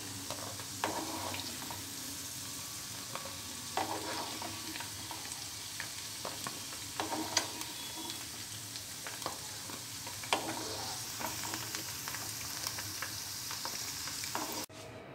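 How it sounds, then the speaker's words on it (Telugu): Drumstick (moringa) pieces fry in a pan for a pickle, a steady close sizzle with occasional stirring scrapes and clicks throughout, no voices. "ములక్కాడల్ని ఎక్కువగా ఫ్రై చేసుకోకూడదు. కొంచెం కలర్ మారిన తర్వాత తీసుకోవాలి."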